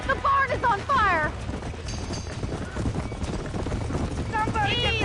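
Horses trapped in a burning barn in Red Dead Redemption whinny in repeated, rising cries over hooves clattering on the floor, loud and close, while people shout over the commotion.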